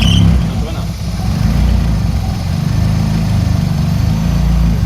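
A Nissan S13 engine runs steadily nearby, a deep continuous rumble with a fine, smooth tone, while a person talks over it.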